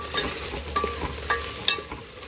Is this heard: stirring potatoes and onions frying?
yes